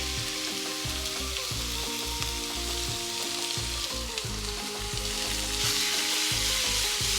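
Marinated chicken pieces sizzle and fry in a hot oiled pan for taco filling, a steady loud crackling hiss throughout with occasional stirring scrapes and low kitchen hum underneath.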